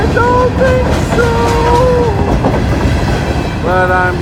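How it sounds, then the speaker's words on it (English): A freight train rolls past loud and close on the tracks, a steady heavy rumble and clatter of cars, with squealing wheel tones rising and falling throughout. "I'm gonna try to jump a train at 50 years old."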